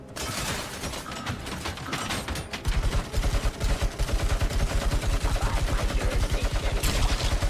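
Heavy machine gun fire in the RoboCop video game, a rapid, loud, continuous stream of shots that grows denser and heavier after the first few seconds and keeps hammering to the end.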